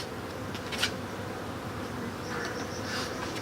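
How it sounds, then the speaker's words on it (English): Honey bees buzz steadily around an open beehive during an inspection, a soft continuous drone with a brief louder flare near the start and some rising activity later. "bees, they're starting to get a little feisty and angry, so give them a little puff of smoke."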